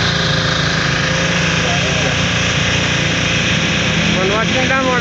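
A motor-driven generator runs nearby at a seaside plaza on Manila Bay, giving a steady, loud engine drone with a constant hum throughout, while a voice talks faintly underneath.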